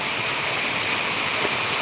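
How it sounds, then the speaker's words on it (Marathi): Heavy night rain in Dapoli, Maharashtra pours onto a metal roof sheet overhead, making a loud, dense, unbroken drumming hiss with no voices. "हा पाऊस एवढा जोरात आहे किती बाब आता मी एका पत्र्याखाली आहे त्या पत्र्याचा आवाज येत असेल जोरात जोरात पावसाचा"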